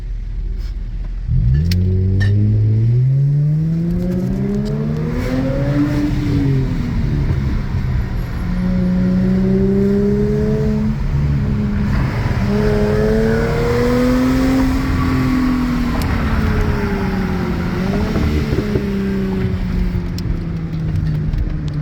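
A loud, throaty Mercedes E350 4Matic engine with a muffler delete and X-pipe revs repeatedly, climbing and falling in pitch with a deep rumble between blips, close by and uninterrupted.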